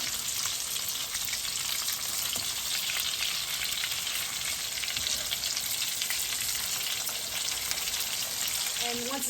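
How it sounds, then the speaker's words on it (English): Breaded veal cutlets fry in a hot pan with a steady, dense sizzle that holds loud and even throughout, close up and with no talking. "I've had the veals frying for about a minute or so"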